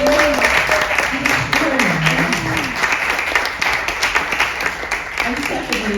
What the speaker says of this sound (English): let's give a big round of applause for Megan Hill,